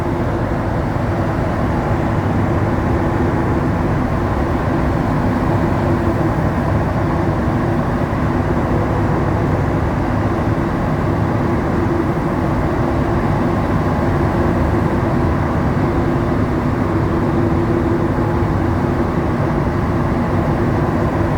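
Montreal Metro train running underground between Montmorency and Lionel-Groulx stations, a loud, steady rumble and rolling roar from inside the car that holds constant throughout with no talking.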